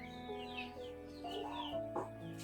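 Chickens clucking at a household chicken coop, a few soft calls rising and falling close by over steady low background noise.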